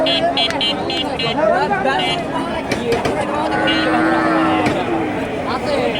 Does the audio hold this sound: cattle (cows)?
yes